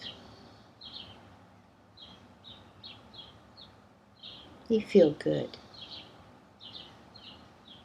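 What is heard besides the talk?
birdsong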